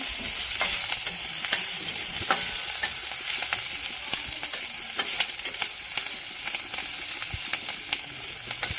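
Moong dal and pumpkin leaves with chopped chili and ginger stirred in a hot pan, with a steady sizzle under repeated light scraping strokes of a spatula, continuous and close.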